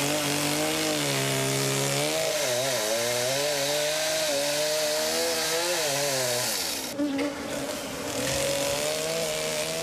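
A chainsaw runs steadily and loudly against a beehive, its wavering engine pitch rising and falling as it cuts, with a brief dip and change in tone near the end.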